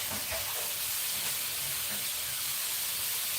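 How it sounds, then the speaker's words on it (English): Tomatoes and other vegetables sizzle in an omelette pan, a steady soft hiss of frying that continues evenly throughout, fairly quiet and alone with no talk. "you put in the tomato or any other veggies you want to put in. And then just let that just cook together for a few minutes."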